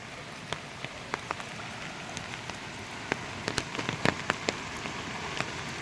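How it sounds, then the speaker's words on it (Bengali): Heavy rain falls in the hills near a waterfall, a dense steady hiss broken by sharp, irregular drops and splashes striking a nearby surface, with no one speaking. "যেহেতু এখন প্রবল বৃষ্টি"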